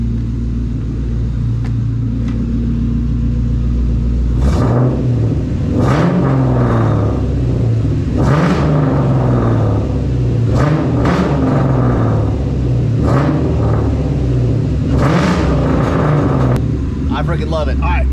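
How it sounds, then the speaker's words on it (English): A car with a Hooker Blackheart cat-back exhaust idles loudly nearby, then is revved repeatedly in sharp bursts, each rising to a roaring peak and falling back to a deep burble. "Let's give her some revs"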